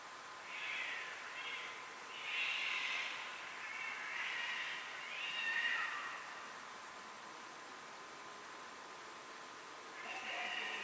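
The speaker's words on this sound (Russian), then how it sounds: "эти ужасные кошачьи крики" Faint, distant cats yowling in drawn-out wails near a marsh at night, several rising and falling cries separated by pauses over a steady hiss.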